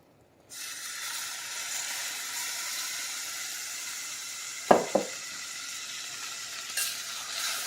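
Evaporated milk poured into hot cooking caramel sets off a steady, loud sizzling hiss that runs throughout, broken by a couple of sharp clanks near the middle.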